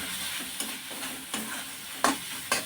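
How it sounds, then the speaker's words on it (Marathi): Cooked amaranth greens with crushed peanut powder are stirred in an open pan, a soft background sizzle punctuated by four distinct scraping strokes of the spoon, close and moderately loud, no speech. "व्यवस्थित मिक्स करून घ्यायचं आणि या भाजीला झाकण ठेवून नाही शिजवायचं"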